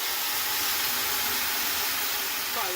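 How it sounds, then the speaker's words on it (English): Mushroom sauce with vermouth sizzles loudly in a pan, a steady broadband hiss that fills the whole clip without pause. "Quite a lot of sizzle actually."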